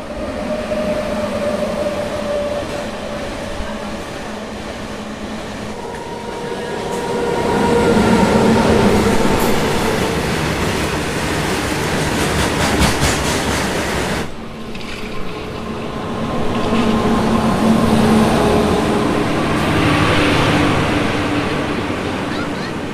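At a railway station platform, the Rampurhat–Sealdah Express rumbles loudly and steadily, with a rolling roar that swells, briefly drops and builds again over a long stretch.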